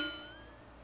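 A notification bell ding sound effect: one bright chime struck once, ringing clearly and fading away over under a second, with no voices.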